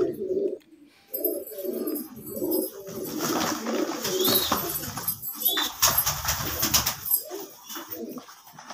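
Pigeons coo softly in a low, rolling rhythm, several birds close by, with scattered chirps and rustling around them, at a pigeon sale in Rawalpindi.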